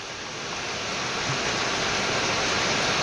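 Heavy rainwater gushes from a pipe during a dangerous downpour, making a loud, steady rushing roar that swells slightly at the start and then holds constant.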